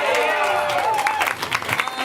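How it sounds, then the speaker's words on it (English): Audience applause for a contestant at a live game event, a dense crowd clapping with some cheering, steady at first then thinning toward the end, with a voice calling over it. "clap for Sarah, everybody"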